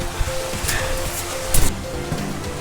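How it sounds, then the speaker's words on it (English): A creek flows nearby as a steady, broad rushing wash, with a few brief surges in the middle and no one talking. "Oh, this is a creek."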